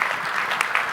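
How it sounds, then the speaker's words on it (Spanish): Brief burst of audience applause at a public policy panel of the Expomin 2025 congress, steady clapping from a crowd lasting about a second. "Un aplauso para Karen Tal"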